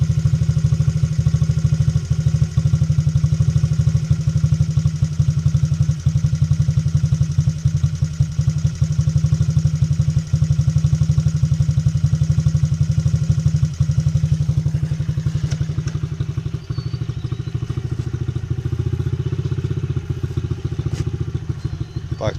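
A Honda XR50R/CRF50F small motorcycle engine idles steadily and loudly after carburetor replacement and tuning, a continuous close putter with a faint rattle, the tone shifting slightly toward the end.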